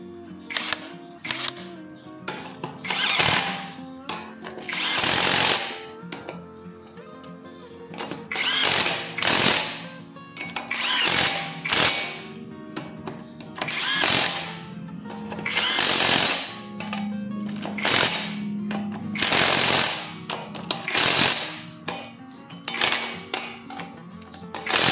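Bursts from an impact wrench on a Hummer H3 wheel during a front ABS sensor replacement come in repeated loud, rattling hammering runs separated by short pauses.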